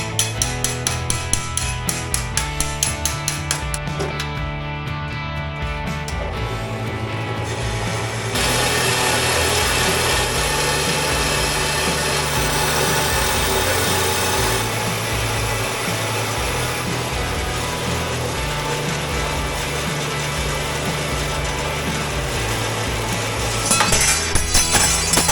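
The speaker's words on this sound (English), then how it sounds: "Clamp 3 in a row, go ahead and chop them." A chop saw slices through three wooden pieces clamped in a row while building shelf brackets, giving a loud, sustained grinding whine that runs almost without a break for the whole stretch.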